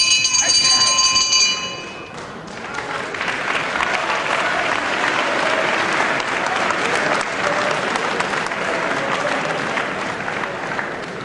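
A wrestling crowd applauds in a dense, sustained wash of clapping that runs from start to finish, preceded by a brief ringing bell at the opening, with commentary voices faint underneath.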